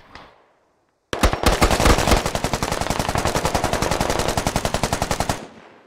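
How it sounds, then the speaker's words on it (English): Machine gun fire in the tactical shooter Squad: a sustained, loud, close burst of rapid, evenly spaced shots lasting about four seconds, then stopping abruptly. "We're firing south, friendly south."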